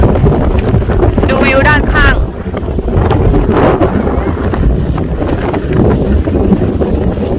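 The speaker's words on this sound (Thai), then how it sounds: "ลมแรงมากทุกคน" Strong wind buffets hard at a ski mountain top in France, a loud continuous roar and rumble of gusts against the microphone, with a voice speaking briefly amid it.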